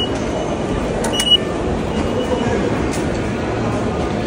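Train in Japan during a commuter transfer, a steady low rumble of rolling rail cars with faint brief squeals and clicks, continuous and moderately loud with no talk.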